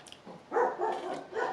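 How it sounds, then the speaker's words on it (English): A dog indoors gives a few short, muffled barks in quick succession, moderately near but not loud, with no talking over them. "He's barking at something in there."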